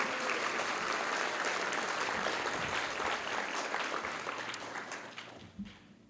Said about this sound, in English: can you please give us an applause?